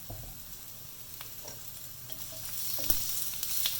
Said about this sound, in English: After the onions are being fried for a minute, we'll put in our fish cakes.